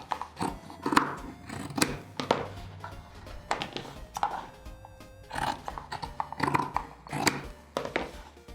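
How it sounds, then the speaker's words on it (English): Scissors snip through denim, cutting the hems off a pair of jeans, a series of close, crisp crunching cuts in an irregular rhythm with short pauses between them. "we'll cut off the hems and then prep it to sew it back on"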